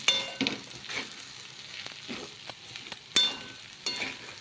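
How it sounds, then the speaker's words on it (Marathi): Sabudana khichdi with crushed peanuts being stirred in a pan gives soft, intermittent scraping and light sizzling strokes, fairly faint and close, with a few sharper clinks of the spoon against the pan. "आता मी छान मिक्स करून घेते"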